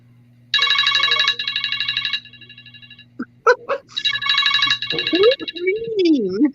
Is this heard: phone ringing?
yes